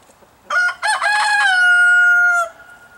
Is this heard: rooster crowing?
yes